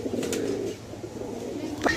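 Pigeons in a loft give soft, low cooing close by, a continuous murmur with a brief sharper call near the end.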